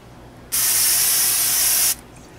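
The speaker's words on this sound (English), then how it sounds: "I'm gonna use Pam, just spray" Pam cooking spray hisses from its can onto a warm grill at a campsite in one steady, loud burst of about a second and a half, with quiet before and after.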